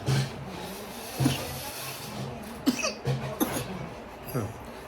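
A child coughs repeatedly at a family home, with several short, close coughs spread across a few seconds and faint background hiss between them.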